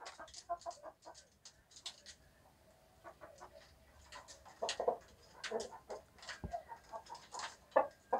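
A Japanese Shamo rooster in its pen gives short clucks and scattered bird calls, fairly faint, with rustling and small knocks between them and no talk.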